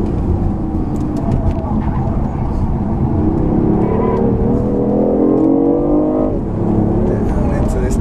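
A race car accelerating hard on a track as the driver powers out of a tight corner, the engine note climbing loudly and steadily through the revs, with the driver talking over it throughout.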